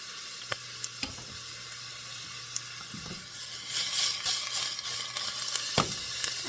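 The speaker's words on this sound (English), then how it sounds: "Onions just smell so good cooking." Onions sizzling in a hot pan, a steady crackling fry close by with occasional sharp ticks and stirring scrapes that grow a little louder toward the end.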